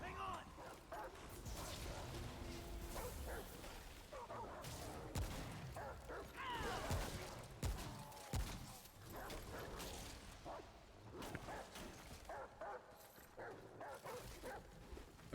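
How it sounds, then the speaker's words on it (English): Video game dogs bark and yip in short scattered bursts amid gunfire-like clatter, with people talking over them. "These dogs are cool."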